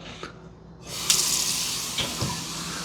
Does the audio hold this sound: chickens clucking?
no